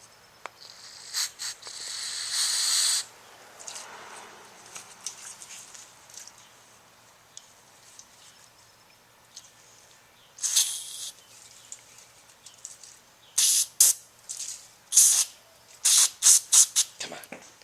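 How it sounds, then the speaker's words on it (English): Brake cleaner sprayed into a motorcycle clutch master cylinder during a fluid change: a long hissing burst early on, then a run of short, sharp aerosol spurts close by, with quiet gaps between them. "I'm gonna take some brake clean and spray it in there."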